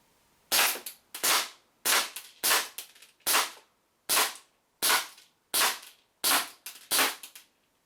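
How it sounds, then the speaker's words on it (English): A WE P99 green gas airsoft pistol fires BBs: nine sharp, evenly spaced snapping shots about a second apart, loud and close with no voices. "just putting some BBs in the magazine and firing it off"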